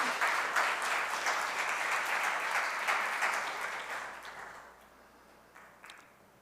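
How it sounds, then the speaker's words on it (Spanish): A church congregation applauds during a live-streamed service, a dense, even wash of clapping that holds steady for several seconds and then thins and fades out toward the end, with no talking over it. "Le brindamos aplausos al Señor."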